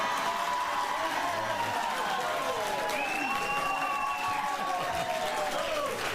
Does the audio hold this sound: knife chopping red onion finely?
no